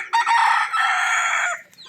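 A desi free-range rooster crows loudly and close by in a single drawn-out call lasting over a second, then fades out.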